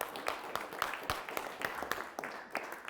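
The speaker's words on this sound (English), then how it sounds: "Let's hear a round of applause for that guy." A speaker-series audience gives a soft, scattered round of applause for a former music teacher, individual claps distinct and fairly quiet, sustained for a few seconds.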